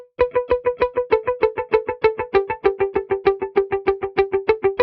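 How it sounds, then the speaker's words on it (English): Lead electric guitar run through a Sound Toys Echo Boy delay plugin set to dotted eighth notes, giving a U2 Edge-style sound: fast, even, repeating picked notes with echoes blending into a steady rhythmic pulse, loud and alone. "We have added Echo Boy, which is a Sound Toys delay plugin, and I've got it on a dotted eighth."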